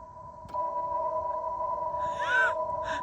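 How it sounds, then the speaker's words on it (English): A 2024 Honda CR-V Sport-L Hybrid in reverse gives a steady electronic tonal hum from its front external speaker, heard from a distance outdoors, with a faint brief warbling sound partway through and no talking. "the speaker in the front is kind of loud, especially when you put it in reverse"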